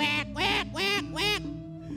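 A male duck quacks four times in a quick, evenly spaced series of loud, nasal, close calls, followed by a softer trailing note, with no talk over it.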